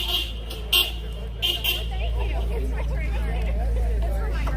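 A car horn gives a few short honks between spells of voices and background chatter, with traffic noise underneath.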